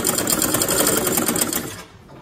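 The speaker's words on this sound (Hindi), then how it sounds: "इधर पट्टी के ऊपर फ्यूज पेपर के ऊपर सिलाई लगाएंगे" Sewing machine running in a fast steady stitching burst along the edge of a fused strip on a ladies' cigarette pant, loud and close, slowing and stopping near the end.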